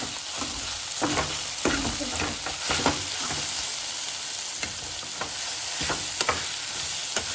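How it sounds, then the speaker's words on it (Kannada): Tomato, pepper and cumin fry for rasam in a pan, giving a loud, continuous sizzle with repeated stirring scrapes and spatters throughout, close up with no talk. "ಟೊಮೆಟೊ ಮೆತ್ತಗಾದ್ಮೇಲೆ ಇದು ಮೆಣಸು, ಜೀರಿಗೆ ಎಲ್ಲ ಹಾಕ್ಕೊಂಡು ಸ್ವಲ್ಪ ಹೊತ್ತು ಫ್ರೈ ಮಾಡ್ಕೊಳ್ಳಿ."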